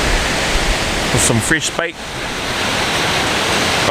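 Surf breaks on a shoreline during surfcasting out west, a steady broadband roar of rushing water that runs throughout, with someone briefly speaking over it midway.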